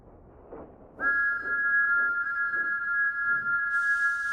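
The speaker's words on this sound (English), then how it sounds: "The sound of Thomas's whistle has changed. Thomas's whistle echoes." Cartoon steam engine Thomas sounds a long sustained whistle inside a quarry, one steady blast lasting several seconds with a ringing echo behind it, over faint rhythmic chuffing.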